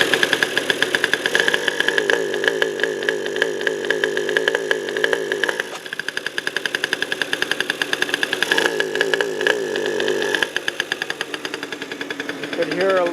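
An engine with electronic ignition problems that won't rev runs roughly at idle, its exhaust pulsing in an uneven, stuttering rhythm with occasional sharp pops, and a person talks over it throughout.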